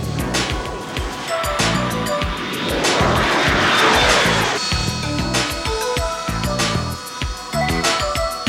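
A single-seat fighter jet developed for the Royal Air Force and Royal Navy roars past with a loud engine that swells and fades, heard in the Desert Storm era of 1991.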